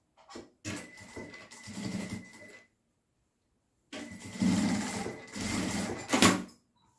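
A sewing machine runs in two short bursts of rapid stitching through fabric, close and clear, with a brief quiet pause between runs.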